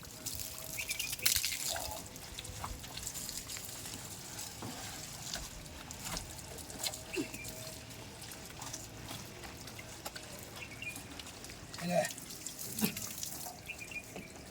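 Tap water running at a weak, low flow while a car is being washed, a quiet continuous trickle and splash with a few louder spatters and drips.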